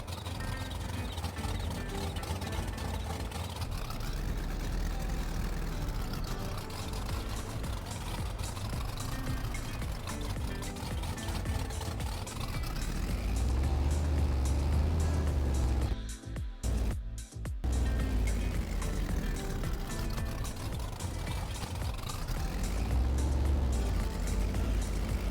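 A loud truck engine in the Farming Simulator 22 video game, rough like an old carbureted engine with a cam, running continuously with a deep low rumble that swells and eases, briefly cutting out near the end.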